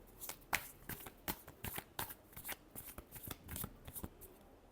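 A deck of tarot cards being shuffled by hand, a fast series of soft, crisp riffles and slaps close to the listener, fairly quiet with no speech.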